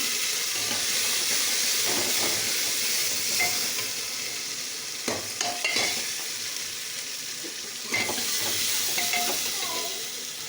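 Onions sizzle in hot oil with cumin for a ridge gourd curry, a steady bright frying hiss with scattered spatters and scraping stir clicks, close and continuous with no talking.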